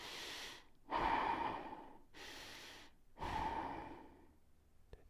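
Slow, deep Ujjayi breaths drawn through the nose, two long breathy passes with a soft throat-constricted hiss, close and quiet with pauses between them.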